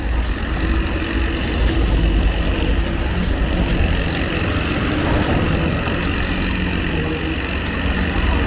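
A petrol-engine hand vibrating screed runs steadily on a concrete slab being poured for a bridge driveway, its loud, continuous motor hum and vibration droning close by without a break and with no talk.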